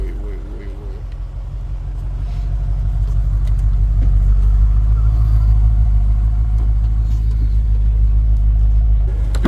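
Car engine rumbling low and steady as the vehicle gets going, a deep hum that builds slightly and holds, with voices talking over it.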